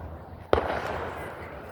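A 4th of July fireworks burst cracks loudly and sharply, followed by a rumbling, crackling decay that trails off over about a second, with faint background noise before it.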